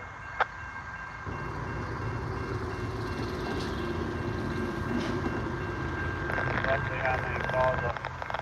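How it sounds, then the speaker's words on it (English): A BNSF freight train rumbles steadily past at close range in Ottumwa, Iowa, a continuous low roar with some higher metallic squeal toward the end. "Our next train in quick succession from this one is this eastbound BNSF movement."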